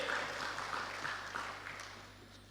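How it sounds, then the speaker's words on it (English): An audience at a stakeholder policy validation session claps for a speaker, a moderate wash of applause with a low hum beneath, gradually fading toward the end. "I think he deserves another round of applause there"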